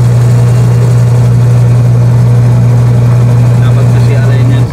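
A washing machine motor and gear pulley running during a restoration, giving a loud, steady, close mechanical hum with a strong low drone that continues unbroken throughout.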